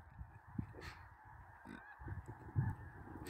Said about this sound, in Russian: Да, это гуси, вот они все-таки разбиваются на клинья.